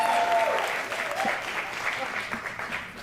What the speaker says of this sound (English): Let's give another big Detroit round of applause for our incredible guests